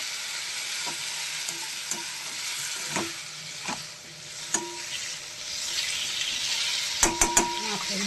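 Spiced water poured into a pan of frying fish and potatoes bursts into a loud, steady sizzle and hiss, with occasional clinks of a utensil stirring close by.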